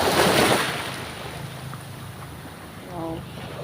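Surf washing over a pebble beach at Jagna, Bohol, with a broad, steady wash of water and wind noise that swells loudest at the start and then settles into a softer, continuous rumble.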